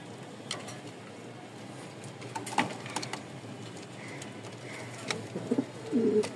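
A pair of Andalusian-coloured Giribaz pigeons coo softly in a loft, with a few low, throaty calls scattered over a steady background hiss and a fuller burst of cooing near the end.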